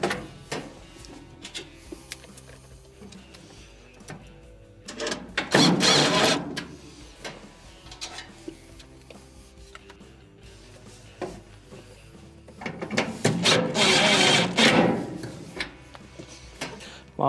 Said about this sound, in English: Next, we will reinstall the screws that hold it in.